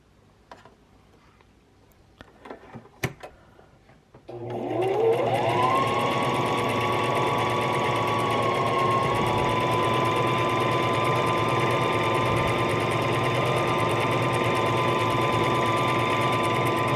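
Sewing machine stitching a beaded sweater, starting after a few faint clicks and then running as a loud, steady mechanical whir that holds a constant high buzz to the end.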